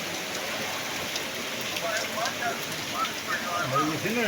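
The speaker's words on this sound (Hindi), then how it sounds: "तूफ़ान तेज़ बारिश।" Heavy rain in a storm in Kotri, a steady dense hiss of downpour close by, with a voice talking over it toward the end.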